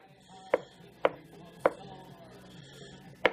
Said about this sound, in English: So I got more of this corned beef, chopping that up to put inside the calzone.